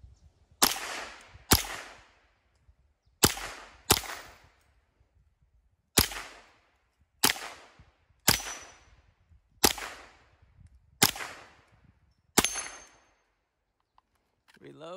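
An M&P 15-22 rifle fires at targets outdoors: eleven loud, sharp single shots, each with a short decaying echo, spaced one to two seconds apart with a longer gap midway, and no talking.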